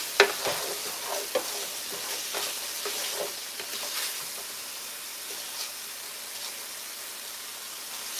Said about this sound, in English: it's time to stir it around